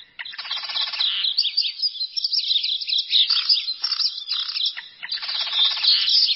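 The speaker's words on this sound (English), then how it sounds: "Migratory birds." Migratory birds chirping in quick, bright bursts of tweets and trills, fairly close and clear, repeating with short pauses and no voices.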